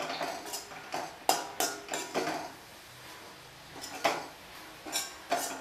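Bread pieces stirred in a metal pan with a utensil, giving sharp scraping clinks in an irregular rhythm, close and fairly quiet, with no talking.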